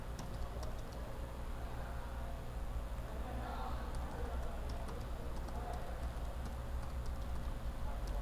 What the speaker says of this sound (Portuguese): Vou digitar o nome de quem está instalando.